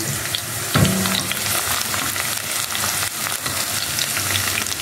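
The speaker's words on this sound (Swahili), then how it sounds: "Ukiangalia hapa vitunguu vangu vinaiva." Chopped onions frying in a cooking pot give a steady, dense sizzle that holds throughout at close range, with a brief clatter near the start and no speech.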